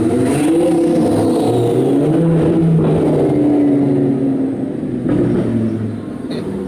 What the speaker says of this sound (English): It was a Lamborghini